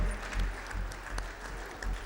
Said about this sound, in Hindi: लोगों से अनुरोध करूंगा कि वो तालियों से उनका स्वागत करें।